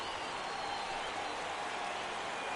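Stadium crowd in the MLB The Show 17 baseball video game cheering and roaring on a full 3-2 count, a steady, dense wash of noise with no breaks.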